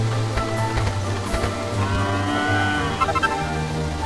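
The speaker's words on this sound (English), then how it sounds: "Ooh, a cow." A cow moos in the video game Dragon Quest VIII. The call rises over steady background game music, fairly loud and close, with no talking.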